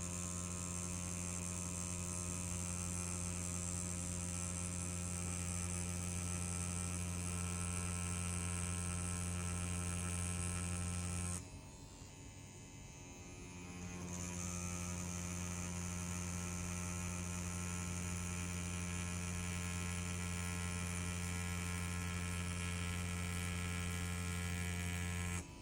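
EZ P6 tattoo machine set to a 4.2 mm stroke, running with a steady electric buzz and hum that dips briefly near the middle before resuming at the same even pitch, with no talking.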